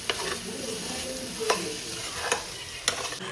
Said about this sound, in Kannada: ಸೊ ಮಿಕ್ಸ್ ಮಾಡ್ತಾ ಇರಿ, ಅವಾಗ ಸ್ಟಿಕ್ ಆನ್ ಆಗಲ್ಲ